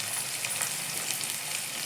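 Onions fry with salt in a hot pan, giving a steady, close, crackling sizzle that continues evenly throughout with no voices.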